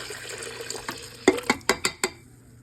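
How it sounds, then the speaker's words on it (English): Warm water for homemade sandwich bread dough splashes into a bowl in a few distinct glugs and spurts, close and fairly loud, with no talking. "All right, now I'm going to add my warm water."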